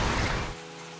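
Steady broadband hiss of rain pouring down at a dam during the rainy season, loud and dense at first, then dropping to a quieter wash with a faint low hum underneath, no voices.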